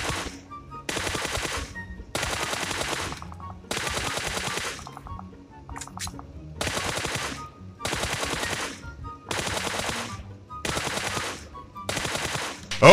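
Rapid automatic gunfire from a shooter video game while the player stands and fires, coming in about eight loud, evenly spaced bursts of around a second each, separated by short pauses.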